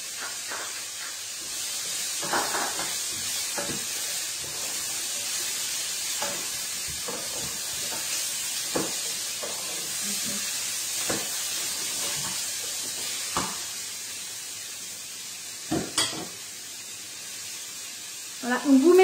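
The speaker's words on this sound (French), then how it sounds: "on laisse revenir tranquillement un petit peu les légumes pour que ça ait du goût" Garlic and carrots sautéing in a pan for a winter vegetable curry, giving a soft continuous sizzle and hiss with scattered clicks of stirring, and brief talk near the end.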